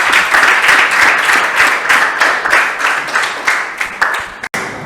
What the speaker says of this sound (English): Please, a round of applause for the speakers again.